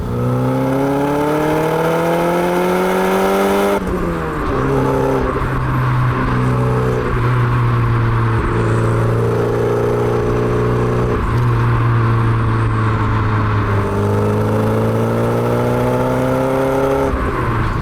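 A 1988 Porsche 944 Turbo S engine revs hard and climbs through the gears on a dry road, pitch rising then dropping at each shift, loud and close throughout.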